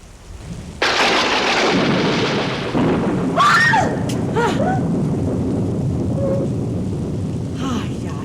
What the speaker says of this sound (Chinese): 看一雷公声就惊到安尼，免惊啦